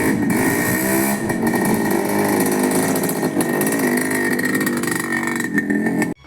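A Yamaha RX100 motorcycle on a ride, its engine loud, close and continuous with a buzzing, rasping drone that holds steady for the whole stretch.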